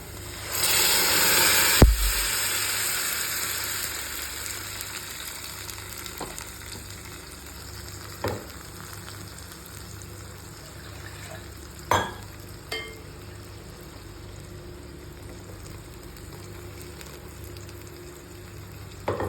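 Onions sautéing in a pan for tomato kurma sizzle steadily with a soft hiss, broken by a few scraping stirs and clinks as ground tomato paste is added and mixed in, with no talking.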